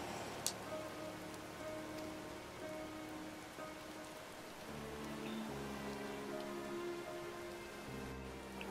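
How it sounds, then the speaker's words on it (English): Steady rain pours down without a break in the game Final Fantasy XIV, a dense hiss with soft droplet patter spread across the whole clip and a low tonal background beneath it. "it's raining the whole time"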